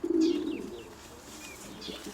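A pigeon feeding its chick at home in a loft, giving a low, close cooing burst followed by faint chirps and soft squeaks from the young bird, with quiet background noise.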